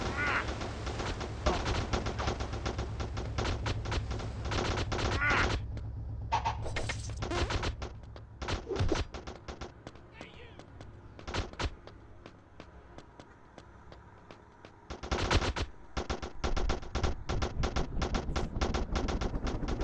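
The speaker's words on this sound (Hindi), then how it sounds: "आर्मी वाले लगातार गोलियां चला रहे हैं हेलीकॉप्टर के ऊपर भी।" Army soldiers fire at a helicopter in the video game Real Gangster Crime 2: dense bursts of rapid automatic gunfire, with brief lulls in the middle before the shooting resumes, loud and without talking.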